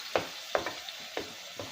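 Salt, dried red chilli powder and coriander powder fry in oil while a spoon stirs, producing a quiet sizzle broken by four or five distinct scraping strokes, close and without voices.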